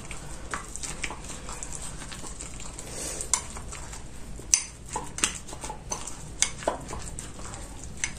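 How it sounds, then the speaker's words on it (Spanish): A whisk beats apple pieces into a mixture of yeast, sweetener and cinnamon, giving rapid scraping strokes and sharp clinks against the bowl, close and without talk. "Y después otra vez vamos a batir."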